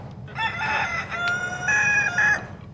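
A rooster crows twice in quick succession, with hens clucking softly underneath, fairly close and clear against a quiet background.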